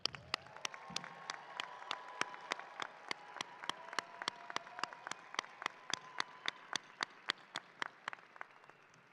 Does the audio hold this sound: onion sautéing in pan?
no